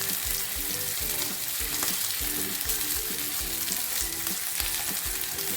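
Steak sprinkled with garlic powder sizzles steadily in a hot pan, a loud, dense frying hiss close by with faint rhythmic scraping throughout and no one speaking.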